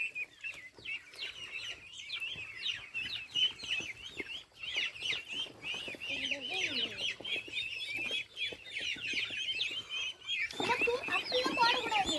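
Chickens clucking and chirping close by, with bird calls throughout and a brief burst of louder squawking near the end.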